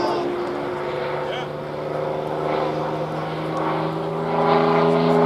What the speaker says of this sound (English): Jim Price and his aerobatic bonanza after the half-Cuban, they turn around the full inside loop